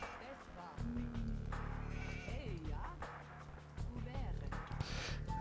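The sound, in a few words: sheep bleating in the video game Age of Empires 2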